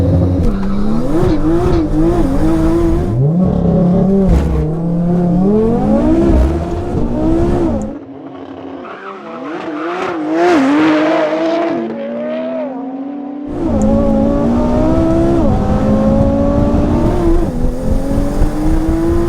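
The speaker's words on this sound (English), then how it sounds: "next up is the drag race" Two heavily tuned cars, a 1016bhp Audi RS3 and a roughly 1000bhp Porsche Turbo S, drag racing on a street: loud, close engines rev hard and climb through gear changes, drop away briefly mid-run, then roar back with tire noise.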